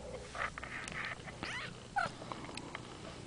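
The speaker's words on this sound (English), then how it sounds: "This is a kitten. It's itty bitty and it's squeaking." A tiny kitten gives several faint, high, thin squeaks scattered over a few seconds, quiet and close, with soft rustling and handling noises around them.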